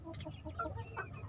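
Bangkok-breed chickens, an old brown hen paired with a prize rooster, cluck close by in a short run of soft, repeated calls with a steady low background murmur.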